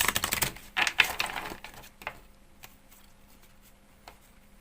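A quick burst of riffling tarot card shuffles, crisp papery flutters in the first two seconds, then a few soft taps and clicks as the deck settles.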